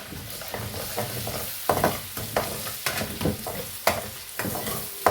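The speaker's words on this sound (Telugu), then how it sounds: "బాగా వేగాలన్నమాట, కొంచెం బ్రౌనిష్ కలర్లో." Chicken pieces fry in hot oil for a chicken pickle, a dense steady sizzle broken by repeated sharp scrapes and clacks of a stirring spoon, close and fairly loud.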